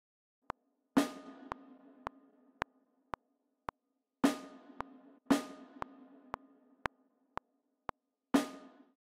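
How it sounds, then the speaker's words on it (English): A steady ticking pulse of sharp clicks with occasional deeper resonant drum hits landing on certain beats, spelling out the letter A in binary code, repeated twice. "the letter A in binary code, repeated two times, sounds like this"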